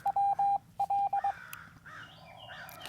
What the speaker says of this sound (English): It's just us and the crows, it sounds like right now.